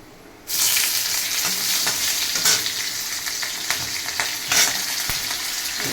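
Torn green chillies go into hot oil and burst into a loud, crackling sizzle after a quiet first half-second, with a few louder spits and stirring sounds scattered through the frying.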